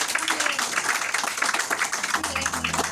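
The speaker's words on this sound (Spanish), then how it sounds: "Dale otro aplauso al Señor" Crowd applause from a church congregation rises and holds as a steady wash of clapping, with no speech over it.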